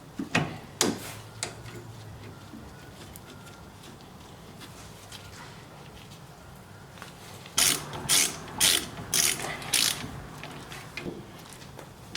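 A ratchet wrench tightens the bolts of an NSX brake caliper being fitted to a Honda Civic in a budget big brake conversion. Two bursts of quick, crisp ratcheting clicks sound close and loud, one short and one longer, with quiet gaps between.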